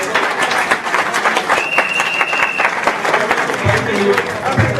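Crowd applause at an All People's Congress party manifesto launch, a steady wash of clapping from a large gathering with a faint sustained tone and voices mixed in underneath.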